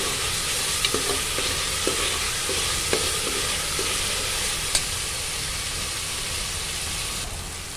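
Chopped tomato fries in a pan with ginger and garlic while a spoon stirs it, a constant sizzle broken by light scraping clicks of the utensil.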